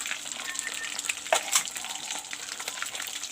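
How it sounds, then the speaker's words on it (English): Pieces of fish fry in a pan with a steady crackling sizzle and occasional sharp pops, close and moderately loud, with no voices. "some fresh pieces are frying over there. My mother's frying it"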